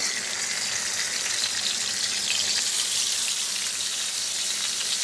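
Hilsa fish fries in hot oil in a Bengali home kitchen, making a loud, steady, unbroken sizzle throughout, with no talking.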